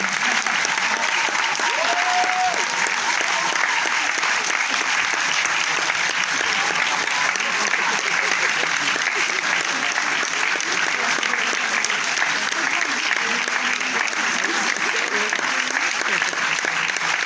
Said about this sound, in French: Quand ils ne sont pas tous sur scène, on applaudit.